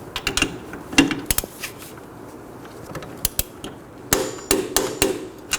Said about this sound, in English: Now let's go ahead and torque this down to 43 foot-pounds.